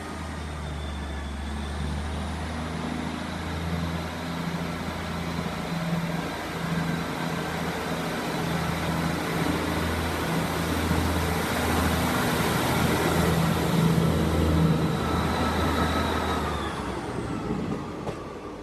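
A Class 158 diesel multiple unit pulls out of Lincoln Central station, its engine droning loud and steady with rising tones as it accelerates, then fading near the end.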